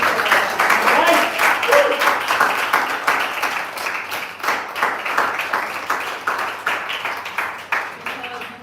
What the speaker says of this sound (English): So give yourself an immense round of applause.